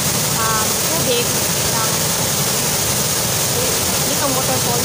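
A waterfall pours into its plunge pool with a loud, constant rushing roar that fills the scene, while faint voices are heard briefly beneath the water.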